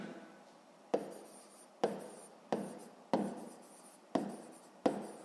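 A pen writes on paper in six separate short scratching strokes at a steady pace, close-up and soft, with no voices.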